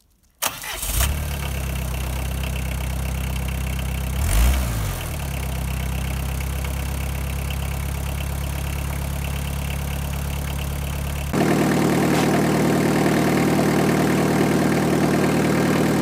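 A Holder AM2 prototype tractor engine cranks and fires after preheating, then settles into a steady, loud idle with a low throbbing rumble, shifting to a brighter, busier tone partway through.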